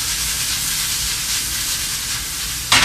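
Tomato dropped into a hot pan of garlic, onions and mushrooms while cooking pasta with shrimp gives a steady loud sizzle and hiss, with a brief sharper burst of frying near the end.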